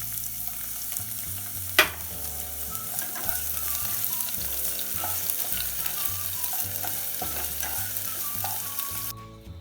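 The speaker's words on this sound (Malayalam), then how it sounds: "കളർ മാറുന്നത് വരെ നന്നായി വഴച്ചെടുക്കുക" Finely chopped shallots and garlic sautéing in a pan, a steady close sizzle with repeated rhythmic stirring scrapes and one sharp clank of a utensil early on.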